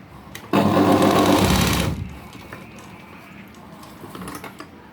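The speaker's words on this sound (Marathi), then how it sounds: "तुम्ही डबल शिलाई मारा मी तुम्हाला एकच मारून दाखवते" A sewing machine stitches a butterfly-style blouse sleeve in one loud, steady run of about a second and a half, then stops, leaving quiet room noise and faint clinks.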